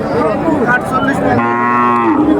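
Sahiwal and local heifer calves at a cattle market in Ranigonj, Ghoraghat, Dinajpur, lowing loudly and up close, with one long drawn-out moo rising over the busy murmur of the market crowd.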